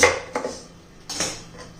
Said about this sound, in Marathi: त्याच्यावरची साल काढून घ्यायची आहे आपल्याला.